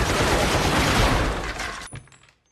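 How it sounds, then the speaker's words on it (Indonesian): A Gatling gun in a samurai film battle fires a loud, continuous rapid burst that cuts off sharply, then a few brief clinks and a fading tail trail into silence. "ia pun memakai peralatan modern yaitu Gatling Gun yang dapat melepaskan beberapa peluru dalam satu kali tembakan"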